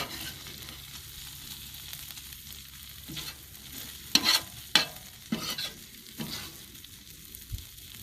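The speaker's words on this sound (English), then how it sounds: "all this is on the 270 GS, cooking with Royal Oak briquettes, natural briquettes" Green chile cheeseburgers cook on a 270 GS grill over Royal Oak natural briquettes. A faint, steady sizzle runs throughout, broken by a few sharp scraping clinks of a utensil. There is no talk.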